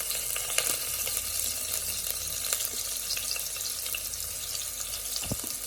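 White parts of spring onions sizzle in hot oil in a pan, giving a steady close crackling hiss with small pops throughout, and no voices.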